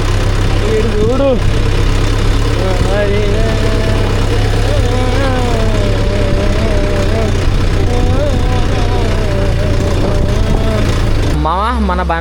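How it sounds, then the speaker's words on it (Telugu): A tractor engine runs steadily at close range, a loud low drone that holds throughout, with voices talking over it and a brief rising rev near the end. "ఇక మన ట్రాక్టర్ ఆడు నింపి పెట్టేసినాం నడిపిండు"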